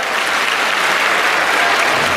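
Loud, dense applause from a large crowd fills a public rally in Banda, Sagar, sustained and unbroken throughout.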